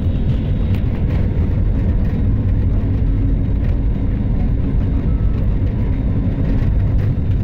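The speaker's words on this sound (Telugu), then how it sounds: "టేక్ ఆఫ్ చూడండి ఫ్లైట్ పోయేది అయితే ఫుల్ ఫాస్ట్ పోతుంది" A passenger airplane accelerates down the runway for takeoff, giving a continuous, loud, broad engine roar with no breaks.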